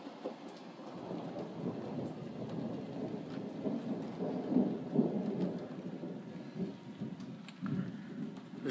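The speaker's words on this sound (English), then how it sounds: "I want to get some cool thunder on this." Thunderstorm in Pinyon Pines, California: steady rain pattering on surfaces with a low rolling rumble of thunder swelling and fading underneath, moderately distant.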